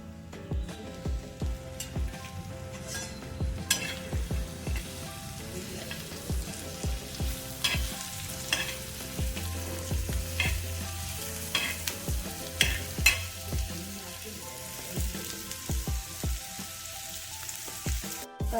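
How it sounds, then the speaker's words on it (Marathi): Onion is frying in a little oil in a pan for fish curry, giving a continuous sizzle broken by repeated scraping and stirring knocks, and one stretch of louder hissing partway through. "तर आपण आधी कांदा टाकूया भाजण्यासाठी"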